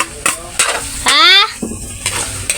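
Hotdogs fry in a little oil in a home kitchen while being stirred, with a crackling sizzle, scraping utensil strokes and a brief squeaky scrape, close and fairly loud.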